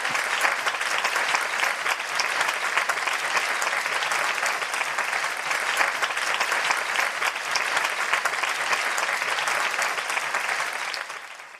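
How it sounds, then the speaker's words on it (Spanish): Sustained applause from a seated audience at a film history talk, dense and steady for about eleven seconds, loud and close, then thinning slightly at the end. "un aplauso a Ángel, que se nos tiene que ir"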